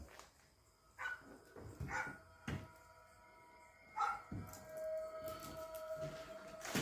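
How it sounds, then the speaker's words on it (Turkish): Several dogs bark in short scattered bursts at a distance at night, faint against a quiet background with a steady hum. "Köpekler havlıyor."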